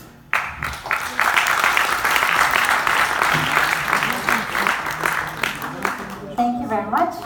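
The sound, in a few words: audience applause welcoming a speaker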